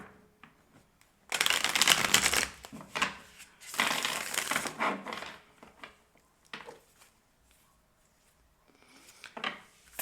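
Tarot cards shuffled and riffled in two strong bursts, then softer slides and taps as single cards are drawn and laid down, close and alone with no talk.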